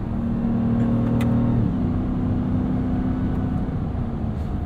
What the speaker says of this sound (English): This is such an enjoyable truck to drive.